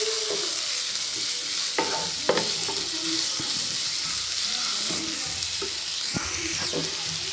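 Ground big onion paste frying in oil with cumin seeds in a pan for onion samosa filling, a steady close sizzle with intermittent stirring scrapes and clinks throughout, no talking.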